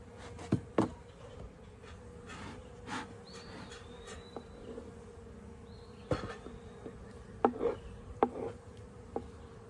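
Honey bees buzzing around a beehive outdoors, a faint steady hum with occasional individual bees passing close by and brief ticks and knocks.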